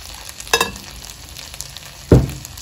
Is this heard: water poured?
no